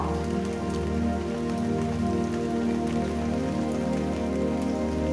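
Steady rain falls on a surface, a dense, even patter of drops that holds constant throughout with no voices.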